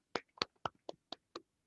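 Six quick hand claps picked up over a Zoom call during a startup panel, evenly spaced and thin-sounding, fairly quiet with no talking.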